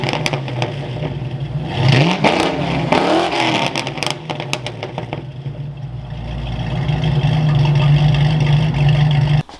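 A Foxbody Mustang engine rumbles loudly, surging and revving for a few seconds before settling into a steady, droning idle.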